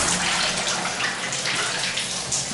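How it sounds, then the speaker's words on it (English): A shower running at strong pressure and draining, a close, steady hiss of spraying water that keeps going without a break, no voices. "the shower pressure is very good. You can hear it. It's coming out very well. It's also draining very well."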